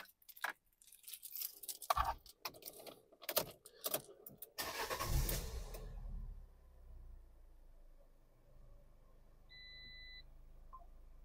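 A Fiat 500 engine is started, with clunks and rattling cranking bursts before it catches into a steady low idle, followed by two short electronic beeps from the dashboard.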